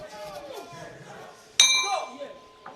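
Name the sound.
boxing ring bell ending the final round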